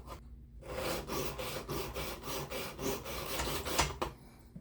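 Knife blade stroked across a 400 grit sharpening stone in a regular series of about a dozen gritty rasping passes, close and alone.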